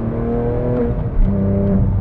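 A Porsche 911 997 GT3 engine accelerates while driving, giving a sustained mechanical drone with shifting harmonics that builds slightly louder toward the end, close and alone without talk.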